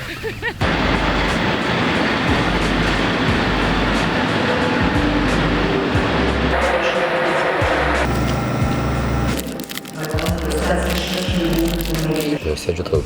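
Loud, continuous rumble and roar from inside a moving train to Vilnius, with a deep low drone that shifts now and then. Voices talk faintly beneath it.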